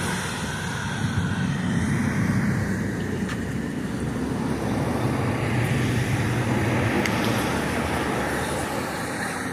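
Steady roar of passing vehicles on a coastal highway, a broad continuous wash of tire and engine noise that swells and eases slightly as cars go by, moderately loud with no talking.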